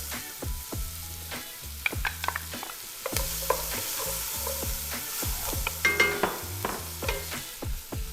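Two cups of onions frying in a pot of hot fat left from browning pot roast, a crackling sizzle broken by repeated scraping stirs and knocks of a spoon against the pot, close up, no speech.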